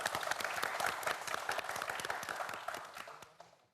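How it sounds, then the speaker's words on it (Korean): A television quiz-show studio audience claps for four student contestants, with sharp, distinct handclaps building into lively applause that gradually thins and fades away near the end. "네 학생 모두에게 다시 한번 박수 보내주시기 바랍니다."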